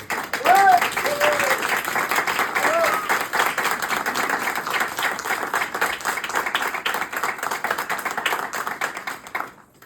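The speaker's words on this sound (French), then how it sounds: "je voudrais que vous fassiez un tonnerre d'applaudissements pour l'équipe technique" A theatre audience applauds after a literary reading, with dense, steady clapping close by that lasts nearly ten seconds before fading at the end. A voice briefly sounds over it early on.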